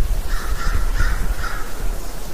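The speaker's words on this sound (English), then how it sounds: "crows." Several loud crow caws in quick succession, close by in a forest, with no talking.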